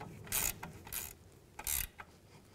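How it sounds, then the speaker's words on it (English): A 17 mm ratchet wrench tightens a nut on a front driver-side CV axle of a 2011-2015 Chevy Cruze, giving three short bursts of close, crisp metallic pawl clicking with brief quiet gaps and a few lighter ticks between them. "so I'll use a 17 millimeter ratchet wrench"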